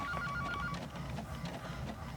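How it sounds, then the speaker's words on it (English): A phone's notification tone chimes faintly at the start, a short series of electronic beeps in a quiet indoor room, followed by low background hum. "Did anybody get a notification on their phone?"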